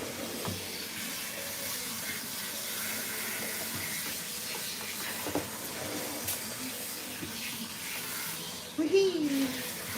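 Tap water runs steadily while a Persian cat is rinsed during a bath, a close, even hiss that continues throughout and swells briefly near the end.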